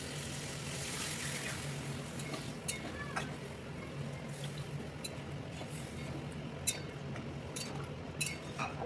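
Water pours into a pan of large-cut potatoes set to boil, a steady soft splashing hiss lasting throughout, with a few faint clinks of utensils.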